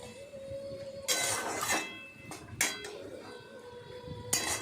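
Kalmi shak stalks stirred in a cooking pot with a little water, bursts of scraping and clinking from the utensil against the pot, separated by quieter moments.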